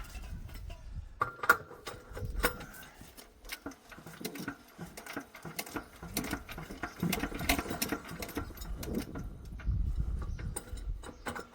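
An old Bamford stationary engine, badly stored for 15 years, is turned over by hand crank. It gives a steady, close mechanical clatter of ticking and rattling parts that runs the whole time with no talking.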